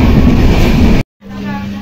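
A train at Ratnagiri railway station rumbles loudly with a broad, steady roar, then cuts out briefly and returns as a lower, humming drone.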